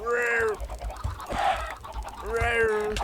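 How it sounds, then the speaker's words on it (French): Chickens in the Minecraft video game cluck in a few short, moderately loud bursts over busy game background noise. "Bah vas-y, on les tue, ça m'a énervé toutes ces poules."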